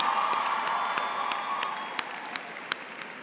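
Audience applause after the Spelman College Glee Club's performance at the 2018 Spelman College commencement: a large crowd clapping steadily with scattered cheers, dense and sustained, with a few sharper claps standing out near the microphone.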